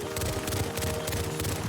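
In a multiplayer shooter, a Renee gun fires rapidly in a dense stream of quick shots that carries on through the whole stretch over a low background drone.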